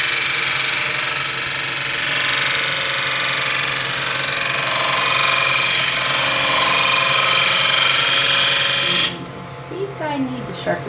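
Wood lathe spinning a glued-up decorative wooden piece held in a chuck, a steady loud mechanical hum and whir throughout that drops away near the end, with a voice talking over it.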